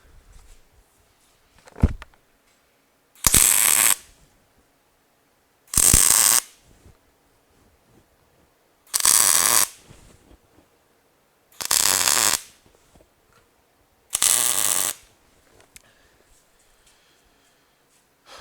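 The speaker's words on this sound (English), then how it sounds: "I'm going to go ahead and tack weld this." Steel bed rail pieces for a headache rack are tack welded, producing five short, loud, crackling bursts spaced evenly apart with near silence between them.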